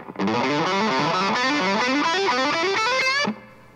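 A fast, smooth ascending legato run of notes on a heavily distorted electric guitar, climbing steadily and ending abruptly after a few seconds.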